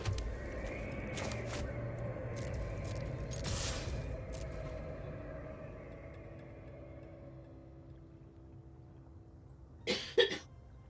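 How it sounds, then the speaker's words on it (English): A brief cough bursts out close by near the end, after a long stretch of quiet background hum with a few faint clicks. "that's not me coughing. That's somebody else here"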